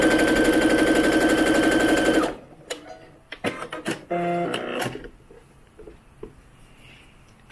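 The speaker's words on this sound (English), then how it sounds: "So we're going to sew the tops of the arms and the sides for both of the pieces" A sewing machine rapidly stitches the arm tops and sides of a doll's maxi dress, a loud steady mechanical whir for about two seconds, then stops, followed by scattered handling clicks and fabric rustles.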